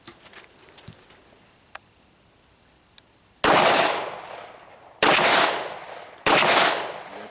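Glock 19 Gen 4 9mm pistol firing +P+ rounds outdoors at a range: three loud, sharp shots, each with a long fading tail, after a few faint ticks.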